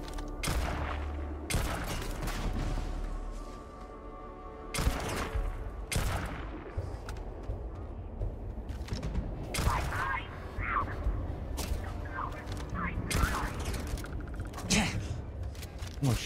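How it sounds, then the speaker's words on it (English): Gunfire in the Starfield Shattered Space video game rattles in repeated sharp bursts and single cracks over sixteen seconds, loud and close with battle noise between volleys, while a player talks over it. "we're getting shot up by everybody"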